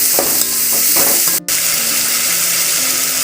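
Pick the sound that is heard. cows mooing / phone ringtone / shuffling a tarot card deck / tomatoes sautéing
tomatoes sautéing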